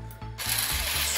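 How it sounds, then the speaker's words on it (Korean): Kitchen Flower 3.6-volt (4.2-volt) cordless screwdriver motor whirring steadily close up, a continuous mechanical hum with a slight rise in pitch as it spins. "스크류드라이버"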